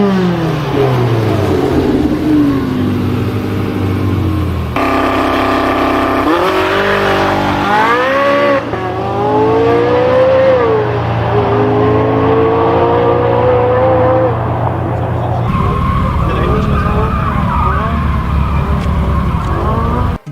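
Porsche 918 Spider in a Need for Speed game races loudly with revving engine, shifting pitch sweeps and sustained tire skidding and squealing, continuous and close throughout.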